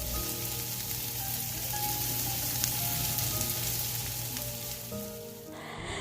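Sandwich filling fries in a pan with a dense, even sizzle throughout, close and steady, easing off briefly near the end.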